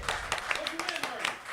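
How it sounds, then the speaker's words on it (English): A small group claps briefly on a local music podcast, a short loose patter of hand claps mixed with talk and chatter in the room. "Round of applause."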